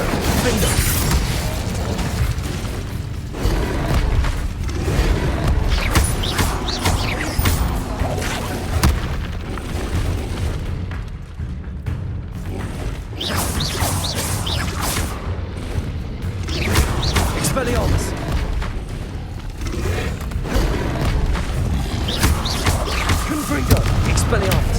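Spell blasts in the Hogwarts Legacy video game, a relentless string of booming magical impacts, bursts and crashes layered with mechanical clatter, loud and continuous, with a voice talking over the action.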